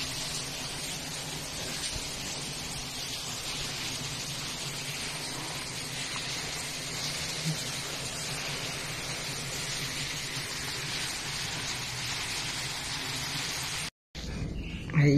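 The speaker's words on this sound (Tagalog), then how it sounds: "Umuulan, ang lakas ng ulan." Heavy rain falling in Oman, a dense, continuous hiss that stays steady and close for about fourteen seconds before cutting out briefly near the end.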